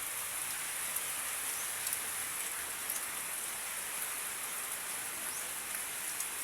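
Heavy rain pours down steadily at a worksite where the fishing nets sagged from the downpour, a dense continuous hiss of drops hitting surfaces with no voices.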